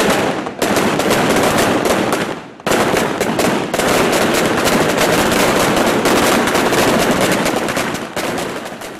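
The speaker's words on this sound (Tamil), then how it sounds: "ஆதரவாளர்கள் வெடிகொளுத்தி கொண்டாட்டத்தில் ஈடுபட்டனர்" Loud, dense strings of firecrackers crackling rapidly and continuously at a political supporters' celebration in Sri Lanka's hill country, with a brief pause before the rattling bursts resume at full intensity.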